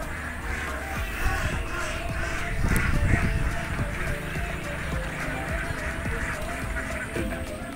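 Domestic ducks settling at dusk on a rural Philippine farm, with chickens nearby: scattered quacks and honking calls mixed with other bird cries over a busy outdoor background, moderately loud, with faint voices now and then.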